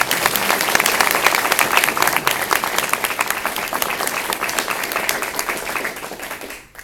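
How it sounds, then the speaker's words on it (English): An audience at a university scholarship awards ceremony applauds an honor society award winner, a loud, sustained crowd clapping that holds steady, then thins and cuts off near the end. "So I think she deserves a round of applause."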